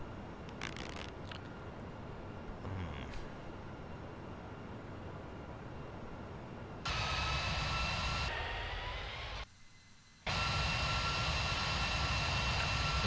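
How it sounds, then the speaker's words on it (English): Distant airliner in the Microsoft Flight Simulator X game, a steady broadband engine roar and hiss with abrupt level jumps and a brief dropout, no talk. "Another plane in the distance."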